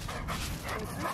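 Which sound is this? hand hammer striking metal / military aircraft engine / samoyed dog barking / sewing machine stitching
samoyed dog barking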